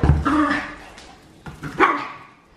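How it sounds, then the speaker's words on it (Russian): A dog barks a few times up close, sharp yappy barks with a short gap between them. "Не гавкай."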